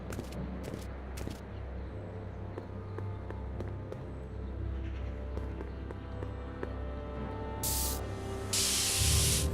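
Spray can hissing in the Back to the Future video game, heard as a bright, loud hiss that bursts in near the end over a steady game ambience with scattered clicks and footsteps.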